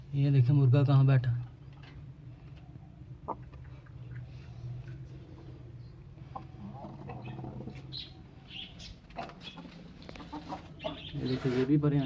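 Rooster and chickens in a farmyard give a loud, close clucking call at the start, followed by scattered softer clucks and bird sounds under a person talking.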